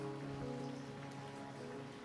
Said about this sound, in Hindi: बारिश नहीं रुक रही है